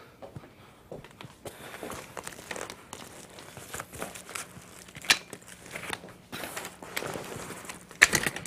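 Rustling, crinkling fabric or film from an envelope attachment being unfolded and spread out, a steady soft rustle with sharper crackles near the end, close by and alone.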